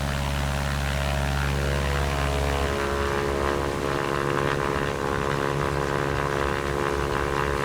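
Constant droning hum of a propeller airplane engine in the X-Plane 11 flight simulator, flying slowly at about 50 knots in a dirty configuration, with steady harmonic tones that shift slightly partway through and no voices.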